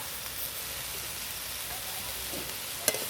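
Momo filling stirred in a pan after soy sauce and vinegar go in, giving a steady soft sizzle with faint scraping throughout and one brief sharp clink near the end.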